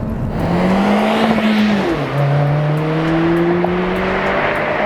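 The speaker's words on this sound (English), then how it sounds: "it's still a very muffled turbocharged 4-cylinder anonymous sound" A turbocharged four-cylinder car engine with a muffled, stock exhaust accelerates hard, its drone rising in pitch, dipping briefly at a gear change, then climbing again, loud and steady inside the cabin.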